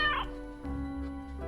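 A cat in the game Death and Taxes lets out a short, bright meow at the start, followed by a low steady hum of game music or ambience.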